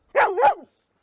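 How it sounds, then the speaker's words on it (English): A dog gives two quick barks close by, loud and alone, a short double yap on a walk out on a slippery road. "Bloody dog's crazy."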